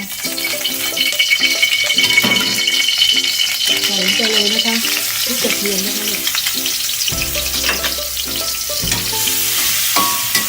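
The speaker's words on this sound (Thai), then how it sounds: "เอาพริกเนี่ย ลงไปผัดก่อน" Fresh yellow chillies sizzle and crackle in hot oil in a wok while being stir-fried for a vegetarian fish with chilli sauce, with steady frying noise, scraping and rattling, and someone talking over it.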